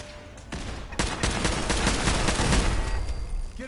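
Turret gunfire in Fallout 4: a dense, continuous burst of rapid automatic shots, loud and close, starting softly and then sustained for several seconds.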